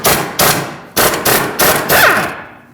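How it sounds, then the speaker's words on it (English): Sharp metallic hammer blows, about six in quick succession, strike a Lexus IS250 front suspension knuckle to knock a tie rod stud loose; loud and close, each hit ringing briefly, with no talk. "looks like for me the tie rod stud popped out"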